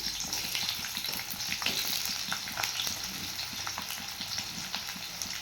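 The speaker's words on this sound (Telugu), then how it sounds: "ఇప్పుడు ఇదే ఆయిల్లో కట్ చేసి పెట్టుకుని ఉల్లిపాయ ముక్కలు వేసుకొని ఫ్రై చేస్తున్నాము" Chopped onion pieces fry in hot oil, a dense, steady sizzle that stays loud and close throughout, with light stirring crackles and no talking.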